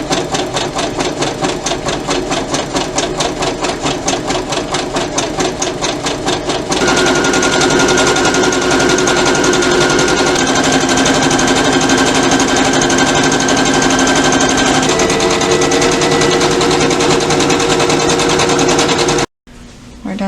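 A sewing machine stitches ribbons onto a ribbon skirt in a loud, continuous, rapid mechanical whir, with the motor pitch shifting partway through before it stops abruptly near the end.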